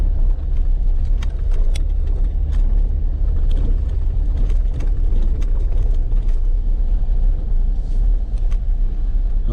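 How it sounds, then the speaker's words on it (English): An unmodified 2018 Jeep Wrangler crawls a rutted, muddy dirt road near Silver Lake Reservoir in Utah, its engine a close, constant low rumble mixed with scattered clicks and rattles from the cabin. "a 2018 Jeep Wrangler. It's not been modified at all, but it does handle these kind of roads really well."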